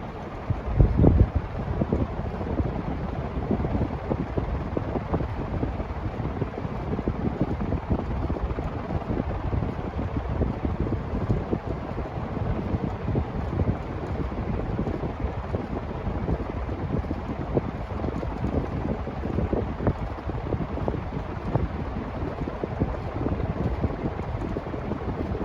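A white SMC industrial 48-inch ceiling fan, model M48, runs steadily, producing a constant whooshing rush of moving air like wind noise, loud and close throughout.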